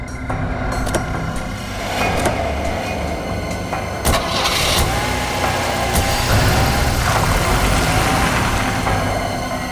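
A car engine starts and settles into a steady, loud idle close at hand, running continuously for several seconds with no talk over it.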